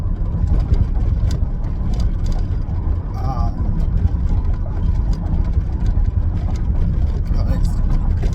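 Steady low rumble of a car interior while driving, a constant road and engine drone filling the background with no breaks, as a person talks over it.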